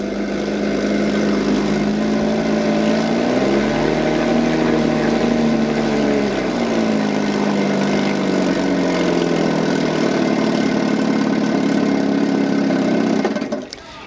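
A 1974–75 Chrysler 5 hp outboard motor, Model 54 HB with an Amal carburetor, runs smoothly and steadily, a loud close drone with a brief pitch dip before settling, then cutting off at the end.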